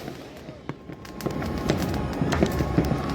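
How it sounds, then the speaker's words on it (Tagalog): Scattered New Year firework bangs and crackles in the Philippines, starting sparse and growing denser, heard from some distance under faint voices. "Fireworks yan, umpisa na yan."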